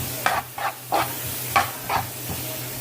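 Flour being stirred into sizzling oil with onions and peppers for smothered chicken gravy, with several distinct scraping stir strokes over a steady low sizzle, close by, no talking.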